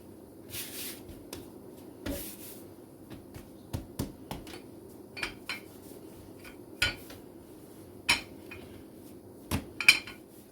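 A knife cuts through sopaipilla dough on a board, giving sparse light taps and clicks of blade and utensils at irregular intervals, close and fairly quiet.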